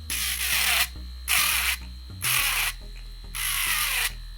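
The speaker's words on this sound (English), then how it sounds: "I use a Dremel because it's a little bit quicker." A Dremel rotary tool grinds a diecast casting in four short bursts, each a loud, high-pitched whirring grind separated by brief pauses, close up and with no talk.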